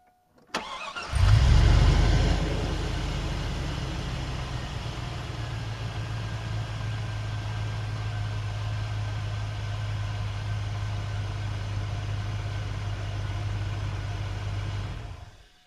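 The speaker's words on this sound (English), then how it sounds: "So we'll fire the truck up, and then we'll check it again." A Chevy Silverado pickup engine cranks briefly and catches with a surge, then settles into a steady, close, low idle that runs unbroken for over ten seconds before cutting off.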